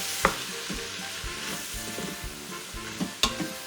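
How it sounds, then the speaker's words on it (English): Vegetables for red braised cabbage sautéed in an Instant Pot, sizzling softly while the spoon knocks and scrapes against the pot in a few sharp taps. "Saute them just a little bit."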